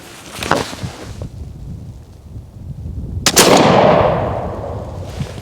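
A black powder gun fires a 4.90 round ball loaded without a patch: one loud, close boom with a long rumbling decay, preceded by soft handling thumps and followed by faint rustling.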